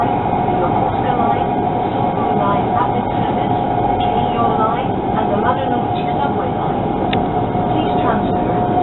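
Steady interior rumble of a JR East E3 series Shinkansen, an ex-Komachi set, running between Omiya and Tokyo, with constant low rolling noise and a faint hum, loud and continuous, with a voice faintly present.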